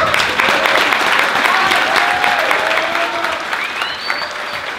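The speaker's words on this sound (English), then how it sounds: "give him a round of applause" Audience at a bodybuilding workshop at Powerhouse Gym breaks into loud, sustained applause with some whoops and crowd noise, fading slightly toward the end.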